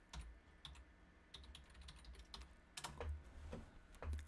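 Quiet clicking of keys on a computer keyboard, irregular bursts of taps with short pauses between, close and soft with no talking.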